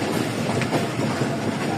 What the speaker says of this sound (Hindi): 2 मिनट स्टॉप के बाद गुजरात से चल पड़ी है जी हमारी गाड़ी 103